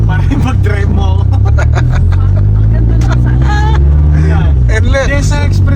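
An old manual car on the road to Baguio runs with a steady low engine drone and road rumble throughout, while people talk over it inside the cabin.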